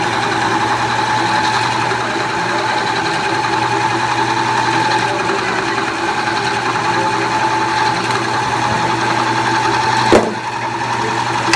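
Electric motor grinding roasted cacao to make tablea chocolate, a steady droning hum with a constant mechanical whine that runs unbroken throughout, ending in a brief click.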